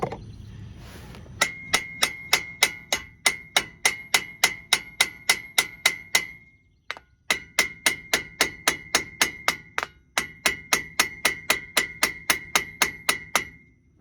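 A hammer taps steadily on the front axle dust seal of a 2006 Ford F-250, each strike a bright metallic ding, repeated in even rhythm across three runs separated by brief pauses, close and clear without talk.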